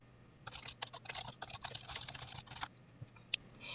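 Java code for a JUnit test is typed on a computer keyboard: a quick, close burst of crisp key clicks for about two seconds, then a pause and one sharp final keystroke.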